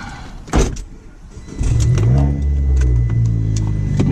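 A car pulls away through a residential neighborhood in Palm Beach Plantation, with a thump early on, then a steady engine drone and road noise at close range from inside the vehicle.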